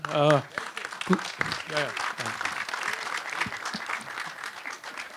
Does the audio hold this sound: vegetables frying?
no